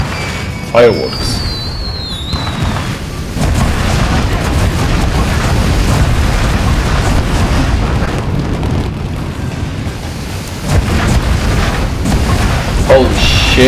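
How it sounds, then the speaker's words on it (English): Fireworks exploding in the video game Trek to Yomi, loud sustained booms and crackling bursts with a brief whistle near the start, under a player's voice. "Fireworks."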